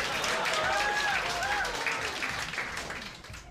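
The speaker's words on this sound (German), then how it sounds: "Also der Applaus, der nervt mich langsam auch noch." Crowd applause in the point-and-click adventure game Goodbye Deponia, a steady wash of clapping that slowly fades, with voices talking over it.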